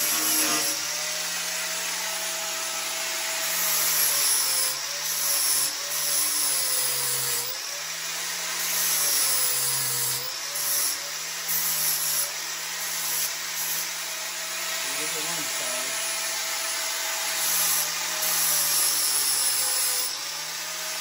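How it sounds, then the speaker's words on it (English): A power sander grinds on a John Deere 4020 tractor part, a steady high-pitched whirring motor that wavers in pitch as pressure changes, continuous and close, with no talk. "I'm going to just try using the sander so it won't be so many sparks for Deb."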